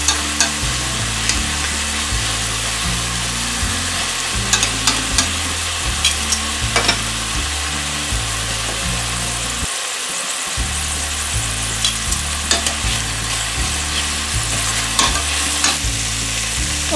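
Chicken pieces for Filipino chicken afritada sizzle and fry in a pan, with steady stirring scrapes running through the whole stretch over a background of rhythmic music.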